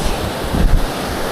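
Steady rushing river water near Puerto Princesa fills the clip with a broad, continuous roar, mixed with wind buffeting the microphone.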